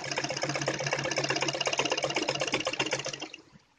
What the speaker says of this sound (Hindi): ऐसे अब सीधी सिलाई लगानी है।